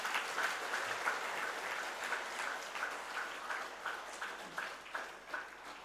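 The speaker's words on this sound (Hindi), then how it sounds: "तो ताली दमदार होनी" Audience at a Bhagwat Katha religious discourse applauding the organizing team, a sustained, fairly quiet patter of many hands with uneven pulses, heard at a distance with no one speaking.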